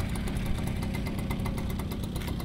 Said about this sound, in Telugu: స్కూటీ ఆపు ఆపు ఆఫ్ చేయి ఆఫ్ చేయి